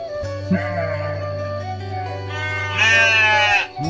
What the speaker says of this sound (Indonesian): Orang sini banyak kambingnya teman-teman tuh.